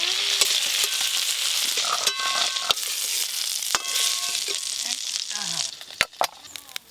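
Whole garam masala tempering in hot mustard oil for a Bengali spinach and prawn curry, a steady, close, bright sizzle with scattered pops and crackles that thins out toward the end.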